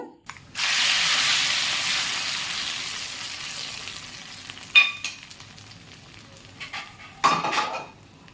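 Spices hit hot oil with a sudden loud sizzle that slowly fades, followed by a few clinks of a pan and utensil.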